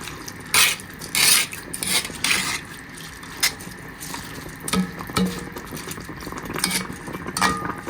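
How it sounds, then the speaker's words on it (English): Rice, gungo peas and beef being stirred in an open pot, a spoon scraping and clinking against the metal in repeated strokes with short pauses, close and fairly loud, no voices. "We're just mixing everything in."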